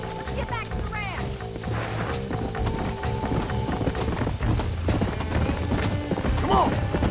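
Horse hooves clip-clop steadily on the ground in the Red Dead Redemption video game, close and rhythmic, with a brief whinny and some game voices mixed in.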